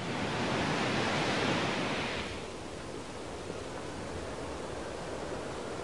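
Broad, steady roar of wind and breaking surf on the South Australian coast, louder at first and then easing to a softer, even wash with no voices.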